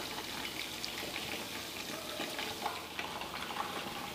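Green kebabs fry in a pan over a low flame, giving a steady, soft sizzle and crackle with faint pops throughout, close up and alone with no voices.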